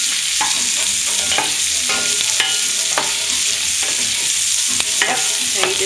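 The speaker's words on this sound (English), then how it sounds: "so you just kind of let it continue to saute" Firecracker shrimp sautéing in a hot pan, a loud dense sizzle running throughout with scattered spatula taps and scrapes, and no voices.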